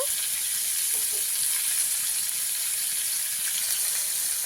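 Potatoes and moringa drumsticks fry with turmeric in a pan, giving a steady, even hiss of sizzling oil that holds at one level throughout, with no talking.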